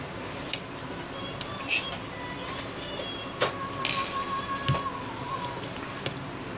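A battery goes into a Nokia Lumia 520 phone with a few small, close plastic clicks and taps spread over several seconds against a light background hum.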